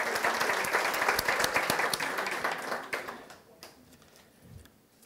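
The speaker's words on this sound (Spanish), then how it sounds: "Un aplauso." Audience applause on a talk show, a steady burst of clapping that thins out and fades over a few seconds.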